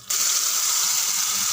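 Water poured from a blender jar into a pan of tomato garlic chutney starts abruptly and runs as a loud, steady gushing pour close by.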